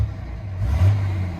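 Leveled 2003 Dodge Ram 2500 4x4 with the 5.9L Cummins diesel idling, a brief low steady rumble that swells slightly partway through, close by.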